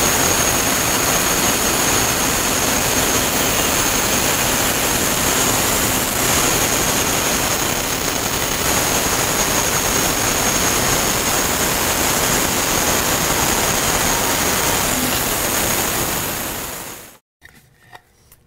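A bandsaw resaws a board of wood guided by two GRR-RIPPER push blocks with no fence, a loud, steady broadband roar of the blade cutting close by that runs continuously, then stops abruptly near the end.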